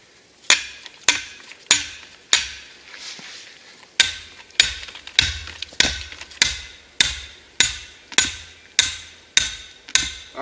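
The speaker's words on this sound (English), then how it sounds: "I'm going to use a sledgehammer. You could use your multi, but the sledgehammer does such a better job" A sledgehammer drives a metal coyote trap stake into the ground outdoors, about fifteen loud, sharp strikes at a steady, even rhythm, each ringing briefly, with a short pause partway through.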